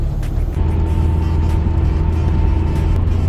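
A Mazda RX-7 FC3S engine drones steadily at highway cruising speed with constant road and wind noise, no talking.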